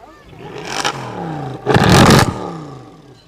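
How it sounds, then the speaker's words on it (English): 2014 eight-cylinder car with 507 horsepower revving at a car show, two short blips, the second louder and fuller, roaring up and falling back close by. "You can just rev it up a little bit for me."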